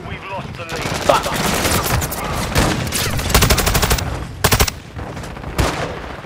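Rapid automatic gunfire in a Call of Duty match, several dense bursts of close, loud shots separated by brief gaps, with faint voices underneath.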